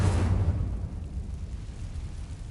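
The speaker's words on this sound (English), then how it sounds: "I'm so glad we have a fire spell." A fire spell cast in Hogwarts Legacy, a short whooshing burst of flame at the start that fades into a lingering low rumble, with no one speaking.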